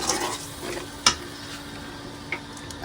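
Spice paste stirs and fries in a home kitchen pan, a soft continuous sizzle with scraping stirs and a couple of sharp utensil taps against the pan, close and alone.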